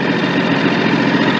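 A Kawasaki engine idles steadily, a close, even rumble with a faint rhythmic pulse and no talking.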